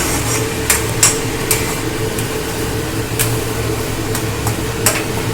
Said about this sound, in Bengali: দেখুন বন্ধুরা, আমি কিন্তু সয়াবিনটা মশলার সঙ্গে সুন্দর করে কষে নিচ্ছি।